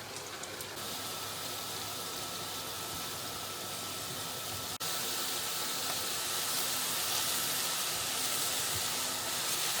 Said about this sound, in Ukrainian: А грибочки я буду обсмажувати, щоб вони випустили свій сік і трішечки підсохли на сухій сковорідці без олії.